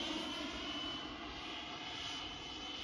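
An HSD L-39 model jet flying overhead at a model flying club gives a steady, faint turbine whine and rushing roar, distant and unbroken for the short stretch.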